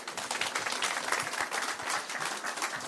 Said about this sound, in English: Can we give him another resounding round of applause?